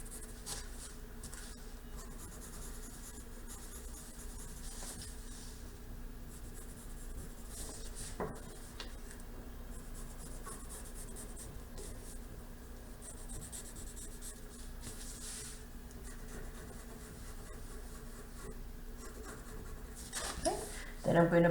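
A pencil traces along the edge of a paper face mask pattern held down by weights, producing a faint, steady scratching across the whole stretch, with a soft handling knock near the middle and a louder rustle at the end; no talking.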